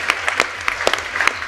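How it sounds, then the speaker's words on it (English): An audience applauds a rider being called onto the stage at a live cycling event, with dense steady clapping that stays fairly loud throughout and no talk over it. "Big round of applause for Fred, everyone."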